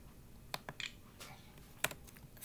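Computer keyboard typing while entering HTML closing tags, a handful of crisp, close keystrokes in an uneven rhythm with short pauses between them, fairly quiet with no talk over it.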